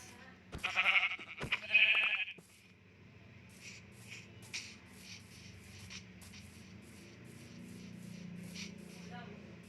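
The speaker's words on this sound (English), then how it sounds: "Yes, yes, spawn sheep. Enjoy your inevitable demise." Sheep in a Minecraft-style survival game bleat twice in quick succession near the start, fairly loud, followed by soft shuffling and game ambience.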